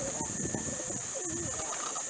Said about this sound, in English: There are the birds.